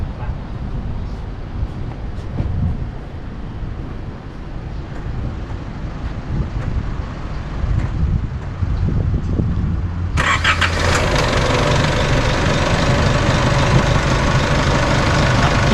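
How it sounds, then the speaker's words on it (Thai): A 2014 Isuzu D-Max pickup's 2.5-litre engine runs steadily at idle, with a sharp jump to a louder, brighter roar about two-thirds through, as if the hood opened or revs rose. "เดี๋ยวเรามาฟังเสียงเครื่องยนต์กันนะครับ"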